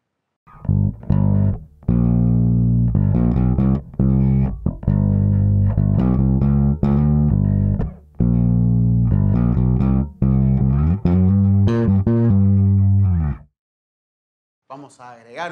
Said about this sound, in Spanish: Vamos a poner primero el modo de distorsión más tranquilo.